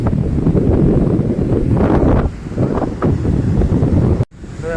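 Strong wind buffets the microphone at Madhavpur beach near Dwarka, with big sea waves surging and roaring up the shore in a loud, continuous rush that briefly cuts out near the end.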